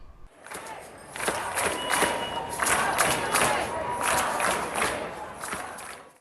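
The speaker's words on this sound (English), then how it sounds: "Crowds this week marched through downtown San Diego and near the county's administration center" Marchers protesting racism against the Asian American and Pacific Islander community in downtown San Diego fill the air with a loud, dense roar of crowd chanting and cheering that swells after a quiet start and stays strong.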